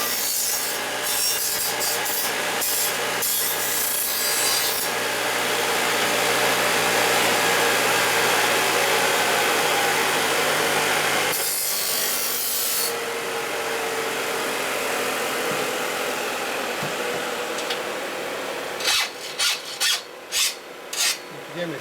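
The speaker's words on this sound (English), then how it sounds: "If you gave me a sharper file, it would do better." A hand file rasps steadily against wood in a wood shop, long continuous strokes close up, a brief pause, then a few short separate strokes near the end.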